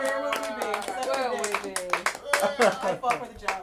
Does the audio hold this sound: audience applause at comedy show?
yes